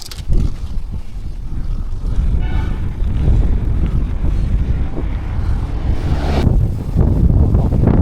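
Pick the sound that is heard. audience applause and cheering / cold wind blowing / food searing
cold wind blowing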